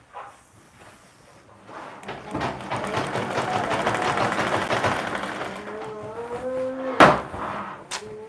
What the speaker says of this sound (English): Stitching the second side of the casing. Top stitching on it.